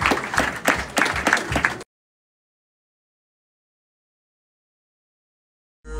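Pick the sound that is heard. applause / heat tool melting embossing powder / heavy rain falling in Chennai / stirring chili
applause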